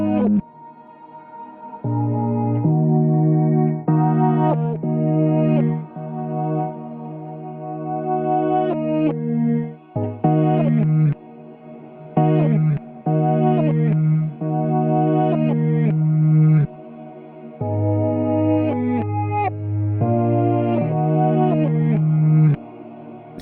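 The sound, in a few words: music loop with reverb effect textures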